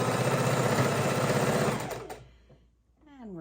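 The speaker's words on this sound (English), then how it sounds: "I like to back stitch at the top and at the bottom, so I'm locking in that position." Sewing machine running steadily as it stitches quilt seams, a fast even mechanical whir for about two seconds, then stopping abruptly, followed by a brief voice.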